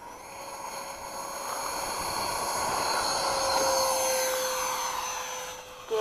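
A Freewing A6 80mm electric ducted-fan RC model jet spools up with a steady, rising whine and airy roar, held loud and close for several seconds with a faint tonal hum running through it.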